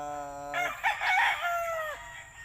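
A single rooster crows loudly and close, with a drawn-out cock-a-doodle-doo that rises and then trails off over about two seconds.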